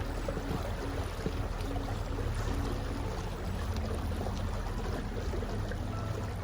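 A narrowboat leaves a lock on the River Nene, with a low steady rumble and rushing water running evenly throughout at moderate distance, and no voices.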